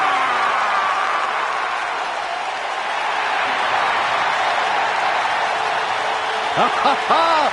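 Crowd applause in the WWE 2K19 wrestling game forms a steady, loud roar of clapping and cheering, with a voice rising briefly near the end.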